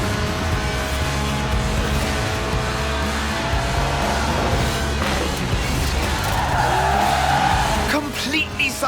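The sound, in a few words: Lotus Elise Sport 190 skidding sideways, Forza Horizon 4 video game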